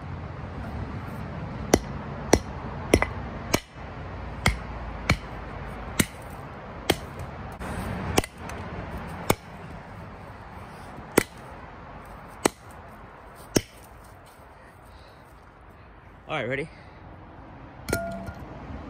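Sharp glassy clinks and smashing hits from Christmas tech being destroyed, a dozen or so separate impacts spread through the clip over a steady background, with brief talk near the end.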